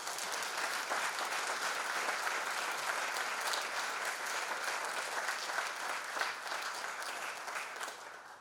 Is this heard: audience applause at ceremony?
yes